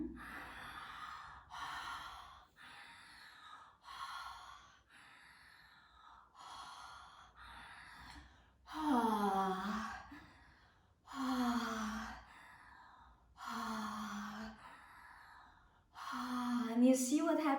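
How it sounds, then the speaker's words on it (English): Open-mouth breathing during a tantric breathwork session: a slow series of audible inhales and exhales, about eight breaths, some soft and airy, others voiced into gasping, sighing tones, close and fairly quiet. "you just open your mouth and start the mouth breathing"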